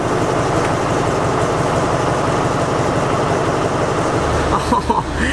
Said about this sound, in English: This is the engine. It's really old and really loud and it's beautiful.